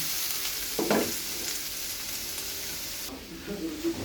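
Cauliflower vegetable stir-fry in a pan gives a steady, moderate sizzle with a brief stirring scrape early on, and no voices over it.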